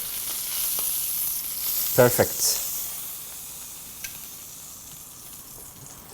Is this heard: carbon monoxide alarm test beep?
no